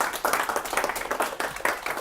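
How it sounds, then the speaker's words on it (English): An audience applauds after a lunchtime lecture, a brief burst of many hands clapping in a room, close and steady throughout. "let's give Graham another round of applause"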